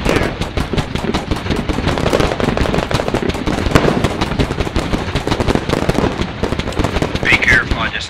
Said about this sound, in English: I just now took heavy enemy fire over here.